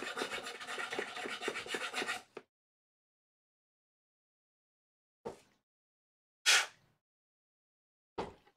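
A hand file rasps against a 3D printed part to clear burrs and over-extruded layer lines, a close run of quick scraping strokes for about two seconds, then three short isolated scrapes after a long silence.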